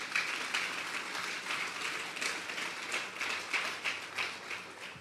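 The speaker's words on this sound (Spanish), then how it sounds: "Vamos a darle un fuerte aplauso al Espíritu Santo esta noche." Sustained audience applause fills a church service, a dense steady wash of many hands clapping with slight swells, moderately loud and continuous throughout.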